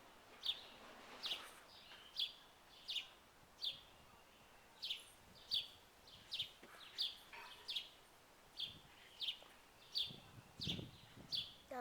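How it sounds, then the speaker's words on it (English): A bird at a backyard feeder chirps in a steady series of about fifteen short, sharp notes, evenly spaced and fairly faint, over quiet outdoor ambience. "there's a bird on the bird feeder."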